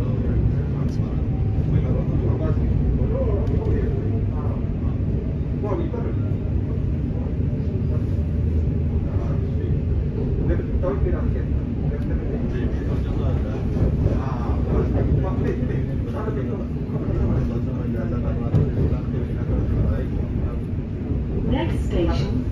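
Inside moving passenger train unit 710103 heading for Enfield Town, a steady low rumble of wheels and carriage runs throughout with faint rattles. Voices can be heard over it now and then.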